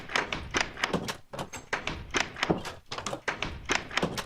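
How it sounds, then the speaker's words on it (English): Repeated wooden thunks of Minecraft doors opening and closing, the older door sound, a steady rapid series of about a dozen close hollow knocks with no talk. "when you open or close any of the 7 doors in Minecraft, half the time, 2 out of 4 times, it will play an old sound"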